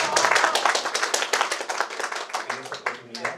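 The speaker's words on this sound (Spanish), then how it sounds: "Fuertes palmas para nuestra mesa de honor," Audience applause for the head table at an academic event on Arguedas and Peruvian education, sustained clapping from many hands filling the room steadily before tapering slightly near the end.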